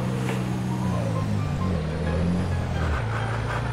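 A Pertamax tanker truck works its engine brake on the steep Sitinjau Lauik road, giving a loud, close, continuous low rumble whose pitch drops and shifts over several seconds, with no talking.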